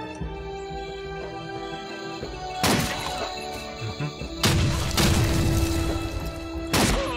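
Grenade explosions in Blade of Agony: three sharp blasts with shattering debris burst out at intervals over a humming game background.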